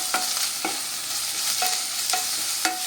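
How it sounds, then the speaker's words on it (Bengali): Tomato and spice masala fry in a pan with a soft steady sizzle. A utensil stirs and scrapes through it in about five evenly spaced strokes. The sound is close and fairly quiet, with no voices. "এবার একটু খুব ভালো করে নেড়ে চেড়ে মশলাটা টমেটোটা ভেজে নেব"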